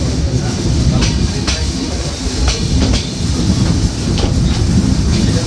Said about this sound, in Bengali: নির্ধারিত সময় থেকে ট্রেনটি প্রায় আধা ঘন্টা বিলম্বে টাঙ্গাইল রেলওয়ে স্টেশন ছেড়ে যাচ্ছে।